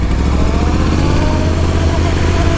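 A Yamaha YZF R1 sport motorcycle rides steadily, its engine a continuous loud, close drone with wind roar, no voices over it.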